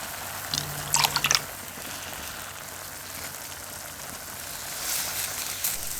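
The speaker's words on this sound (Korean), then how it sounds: "물을 넣고 같이 볶아주시면" Water is poured into a pan of stir-frying eggplant, giving a brief splashing, sizzling burst near the start, then a low steady simmering crackle with a faint later flare of sizzle.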